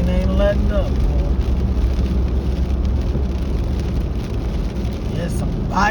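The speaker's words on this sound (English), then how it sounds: "And this rain ain't letting up, boy." Heavy rain pours steadily throughout, a dense, even hiss of drops close by, with someone talking over it briefly near the start and end.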